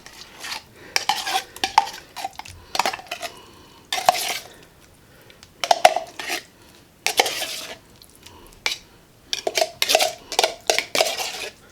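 A spoon scrapes and clanks against a can and mixing bowl while pure canned pumpkin from a 29-ounce can is scooped out for cookie dough, a series of close, loud metallic knocks and scrapes in irregular bursts.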